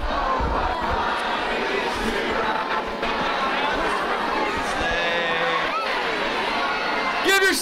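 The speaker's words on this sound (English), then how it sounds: "Give yourselves a big round of applause" A large outdoor crowd at a Christmas tree lighting in Doylestown roars and cheers continuously, a loud dense wash of voices and shouts that holds steady throughout.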